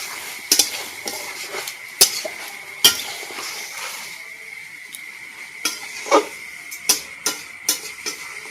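Chicken fries and gets stirred among onions in a pan for a thin desi chicken curry, with repeated sharp clinks and scrapes of a metal spoon against the pan over a faint sizzle, the clinks spaced irregularly and coming faster toward the end.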